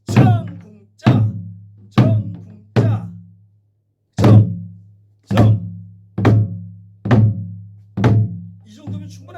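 Jindo buk, a Korean barrel drum, struck in the jeong-kung-jja pattern: nine deep resonant thumps at an even pace, each decaying quickly, with a brief pause midway.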